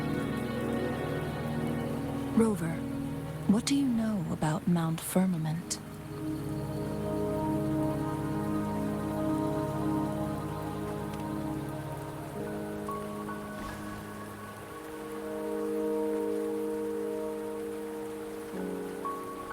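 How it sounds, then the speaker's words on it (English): Steady rain patters in a mountain scene in the video game Wuthering Waves, a soft continuous wash beneath sustained musical tones, with a character's spoken voice near the start. "Don't worry, the rain won't last much longer."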